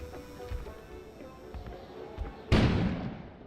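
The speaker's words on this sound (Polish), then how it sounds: "An explosion suddenly occurred outside." A sudden loud explosion bursts in the game world outside, a broad booming blast that cuts through the quieter clattering game ambience and then decays over a second.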